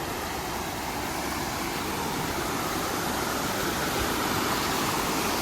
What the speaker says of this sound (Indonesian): Nah ini airnya nih yang menuju air terjun yang tinggi ya.